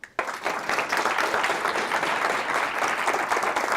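An audience at a physics lecture welcoming the speaker with applause that begins abruptly and holds steady as a dense, full wash of clapping, loud and close, with no talk over it.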